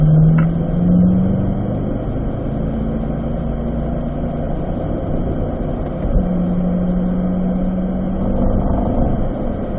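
A car engine runs steadily after a track session at a race track, holding a low droning hum with a faint tonal whine that shifts slightly in pitch now and then.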